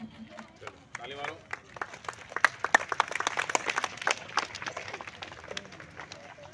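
Children clap at a school flag-hoisting ceremony on Republic Day, giving a scattered, uneven burst of claps. A teacher's voice talks over it.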